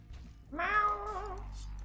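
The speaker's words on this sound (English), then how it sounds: "Meow!" A single drawn-out cat meow from the dungeon-crawler video game FATE, clear and fairly close over a low steady background hum.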